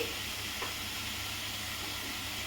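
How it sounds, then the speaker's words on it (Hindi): Tomatoes and onions fry in oil with turmeric for paneer jalfrezi, giving a steady, close sizzle and hiss with a faint stirring scrape, continuous and without talk. "टमाटर और प्याज अच्छी तरह भून रहा है, चारों तरफ तेल दिखने लगा है।"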